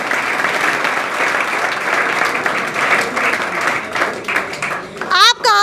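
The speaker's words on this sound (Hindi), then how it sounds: "एक बार सभी तालियां बजा दीजिए अपने लिए" A large gathering at a ceremony for newly selected army recruits claps loudly and continuously for itself, the applause thinning near the end as a voice and a brief tonal sound cut in.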